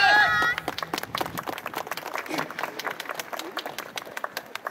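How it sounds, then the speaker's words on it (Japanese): Audience clapping in a steady rhythm at an outdoor yosakoi dance event in Hikone, welcoming the dancers; dense, even handclaps continue throughout, with a brief higher tone at the start. "皆さんどうか手拍子足拍子心拍子で迎えますので"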